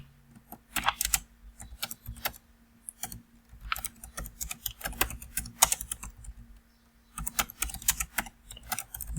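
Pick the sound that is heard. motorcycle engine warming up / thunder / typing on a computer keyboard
typing on a computer keyboard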